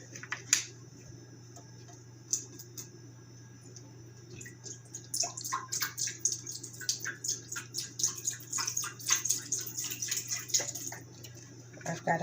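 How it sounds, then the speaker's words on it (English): Chicken broth pours from a carton into an empty aluminum pot, a steady run of liquid splashing and dripping close up, over a constant low hum from a kitchen appliance. "We'll pour like 2 cups of chicken broth inside."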